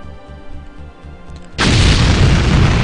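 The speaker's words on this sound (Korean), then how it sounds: "왼쪽 밑에 보시면은 제가 핵을 쏘는 게 보입니다" A nuclear missile launch in the strategy game SuperPower 2 erupts suddenly into a loud, sustained roaring explosion that cuts over a quieter rhythmic music bed and holds at full force.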